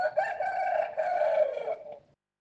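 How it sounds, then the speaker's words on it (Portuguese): A rooster crows once, a loud, clear cock-a-doodle-doo that rises, holds and then trails off into silence. "Neste ponto cantou o galo pela segunda vez."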